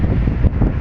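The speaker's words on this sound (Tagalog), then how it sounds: "Lakas ng hangin, ang lamig." Strong, cold wind buffeting across the deck of a crowded passenger ferry, a loud, close rumbling gust that blasts steadily for under a second.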